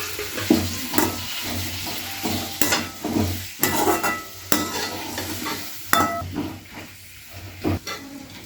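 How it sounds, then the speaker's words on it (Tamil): Onion, tomato, mint, curry leaves and garlic sauté in a pan for a tomato-mint chutney, with a soft sizzle under repeated scraping strokes of a stirring spoon. "தக்காளி, அப்புறம் புதினா, கருவேப்பிலை இவ்வளோத்தையும் போட்டு வதக்கணும்"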